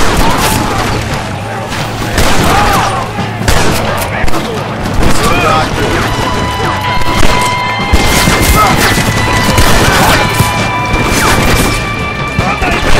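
Dense gunfire and crashing impacts from a machine gun battle at a mansion in Red Dead Redemption, loud and continuous bursts mixed with shouting voices.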